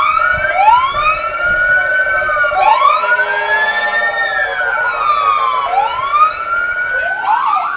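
Loud overlapping police sirens from Vito Enterprises movie cars in a Fourth of July parade, multiple wails rising and falling out of step with one another, close and continuous over faint street background.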